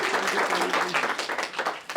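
An audience at a Hindi studio show with a NASA scientist guest applauds, dense steady clapping from many hands that thins into scattered claps toward the end.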